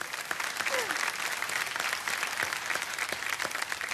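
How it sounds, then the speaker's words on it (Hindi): An audience claps together in a room, many hands beating in a dense, even patter with a few sharper individual claps standing out, steady and moderately loud throughout. "अभी सब लोग ताली बजा रहे हैं"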